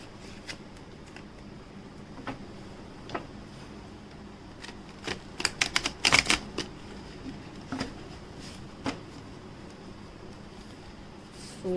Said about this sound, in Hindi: सो एक बार शफल कर लेती हूँ।